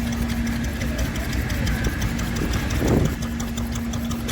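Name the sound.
Fowler engine running at a rally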